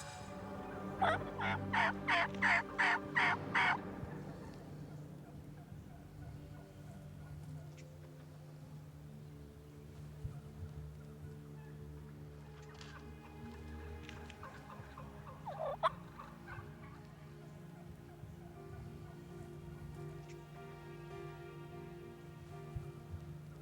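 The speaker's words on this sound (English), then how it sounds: "one of the most phenomenal eastern wild turkey gobbling mornings you will ever hear" An eastern wild turkey gobbles in a rapid rattling burst early on, with a fainter gobble later, heard outdoors in the morning over a steady low background hum.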